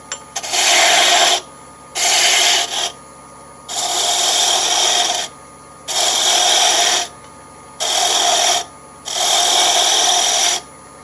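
A draw knife handle being shaped on a woodturning lathe, a tool scraping the spinning wood in six loud, steady bursts of roughly a second each, with short pauses between them.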